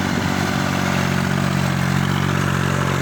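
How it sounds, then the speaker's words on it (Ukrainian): A Chinese Zubr 240 tractor from 2008, without front-wheel drive, runs steadily while ploughing a field with a Kverneland plough, its engine giving a continuous loud low drone and clatter with no talking. "Робить картину тракторець 2008 року."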